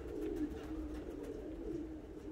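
Pigeons cooing near a backyard loft on a cold morning during a short flight, soft low repeated coos rolling continuously at moderate distance against a quiet outdoor background.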